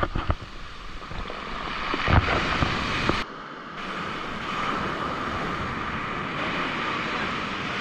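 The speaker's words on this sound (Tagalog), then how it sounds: "Ito ang alon pala yun." Strong ocean waves surge and crash onto a beach at Mauban, Quezon, a steady loud roar of surf with wind buffeting the microphone and no talking.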